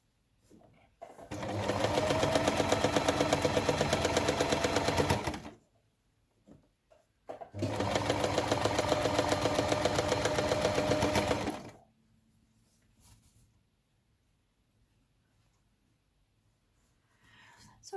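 Sewing machine stitching patchwork quilt seams, two steady rapid whirring bursts of about four seconds each separated by a short pause, close and clear, followed by near silence.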